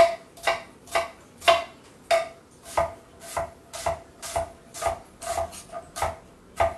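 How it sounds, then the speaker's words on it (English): An onion is chopped with a knife on a cutting board, giving about fifteen crisp, evenly spaced thuds close by, each with a faint ringing tick, and no voices. "I'm going to chop the rest of that onion"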